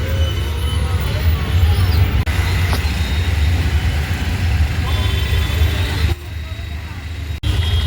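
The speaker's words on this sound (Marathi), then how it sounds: "अर्धा तास झाला ट्रॅफिक मध्ये अडकलो." Vehicles idling and crawling in a crowded market-area traffic jam make a steady, close low engine rumble throughout, with voices talking over it.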